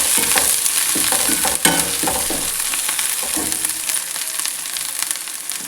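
Ginger-garlic paste frying in a pan for a tomato and egg curry, sizzling steadily while being stirred, with scraping spoon strokes over a continuous loud hiss.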